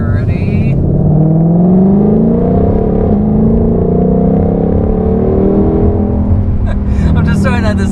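A 760 HP Ford Mustang Shelby GT500 accelerating under throttle, a loud close engine roar rising steadily in pitch as it pulls, then easing off near the end with brief voice or cabin sounds.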